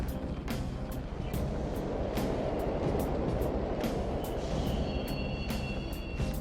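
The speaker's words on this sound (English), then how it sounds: "That train's totally running." A subway train rolls through a station in the Persona 5 video game, a loud continuous rumble with a regular clatter of wheels over rail joints and a faint whine in the last seconds.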